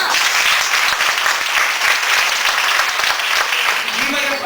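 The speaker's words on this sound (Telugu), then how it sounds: "మరి ఒకసారి బిగ్ క్లాప్స్ కొట్టారుగా" Loud, thick applause from a room of students at an organization gathering, big enthusiastic claps running continuously and evenly from start to finish.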